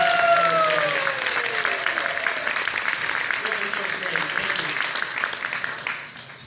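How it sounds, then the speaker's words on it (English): Audience applause for a marketing and sales team at an amusement park enthusiasts' event, with sustained dense clapping from a large room that tapers off toward the end, with some voices mixed in. "a huge round of applause for our marketing and sales team"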